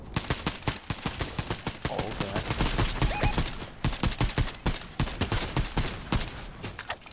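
Gunfire from another player in the Fortnite video game, rapid bursts of sharp shots that crackle in quick rhythmic volleys for several seconds, loud and close, with no talk.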